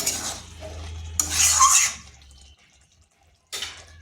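A pumpkin and gobindobhog rice dish is stirred in a pot, making close scraping and swishing sounds that build to a brief peak, fall quiet, then resume with a short stir.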